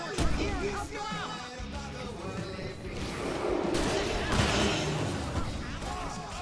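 Gunfire from the Alan Wake Remastered game on Nintendo Switch 2 rattles in dense, loud volleys under shouting and in-game voices, with bursts overlapping through the whole stretch.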